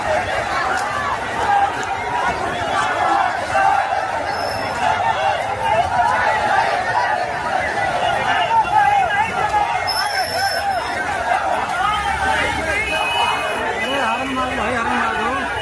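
A protesting crowd packs a rainy street in Prayagraj, Uttar Pradesh, a dense continuous babble of many voices with scattered shouts and occasional whistles, loud and close throughout.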